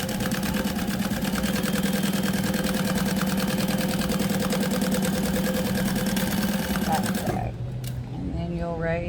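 Industrial sewing machine stitching and back tacking UTV fabric, a loud steady rapid clatter that stops near the end, with some voice audible in the background.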